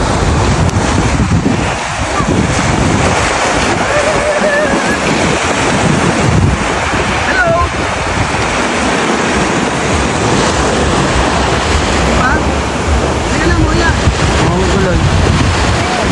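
Steady roar of sea surf and wind at the beach, broadband and constant, with faint voices underneath.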